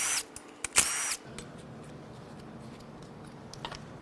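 A power tool whirs in a brief loud burst while cam sensors come off a 2019 Ford F-150 3.5L EcoBoost engine during a teardown, then a quieter stretch of low workshop noise with faint clicks.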